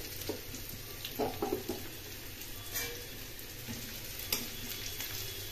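Onions fry in oil with bay leaves and a pinch of sugar for a potato paneer curry, making a steady close sizzle broken by scraping stirs and occasional sharper pops, with no voices.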